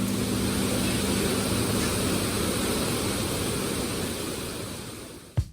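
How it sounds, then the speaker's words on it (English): Continuous broadband rush of flowing water at Disney California Adventure theme park, loud and steady like a nearby creek or cascade, with a brief knock at the very end. "listen to the rushing sound of the water"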